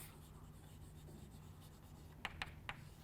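Pen or marker writing on paper during a biology lesson: a steady scratchy rasp, ending in three quick, sharp strokes, quiet and close with a faint hum beneath and no talking.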